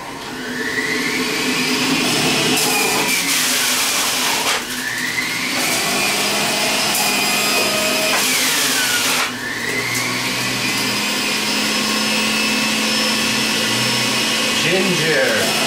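A Breville Juice Fountain Plus juicer whirs loudly and close, its motor pitch dipping and recovering several times as produce, including ginger, is pushed through, with a steady high whine throughout.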